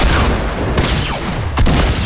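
Sniper rifle shots crack out in the video game Fortnite, two loud sharp blasts roughly a second apart over a dense, noisy game mix, with no talk.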